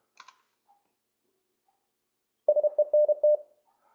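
A short Morse code word plays from the LCWO online trainer: after near silence, a quick burst of clean beeping dits and dahs sounds alone at moderate volume.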